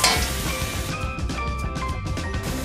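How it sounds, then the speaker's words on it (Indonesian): Minced garlic sizzles in a little hot oil in a wok, a steady, close frying crackle with scraping and stirring strokes on top of it. "ini saya panaskan wajan dengan minyak sedikit. Kemudian saya masukkan bawang putih yang sudah dicincang."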